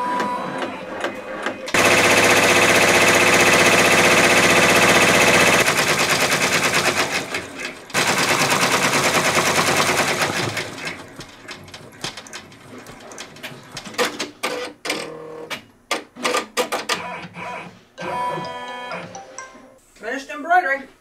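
A home embroidery machine stitches a dachshund design for a tote bag, with long loud stretches of rapid mechanical needle chatter followed by irregular clicks and thumps as it pauses. A person talks at times.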